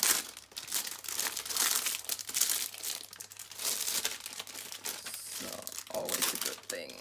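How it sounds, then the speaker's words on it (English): Plastic baggies from a diamond painting kit crinkle and rustle close up in irregular bursts of crackling, with a voice speaking faintly underneath. "And sorry about the crinkling, but there is nothing I can do to avoid that."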